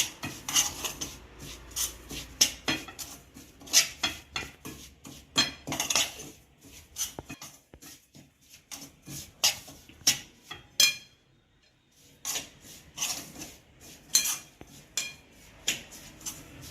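A spoon scrapes and clinks steadily against a bowl as fenugreek spice masala is mixed for karonda pickle, in repeated rhythmic strokes with a short pause near the end.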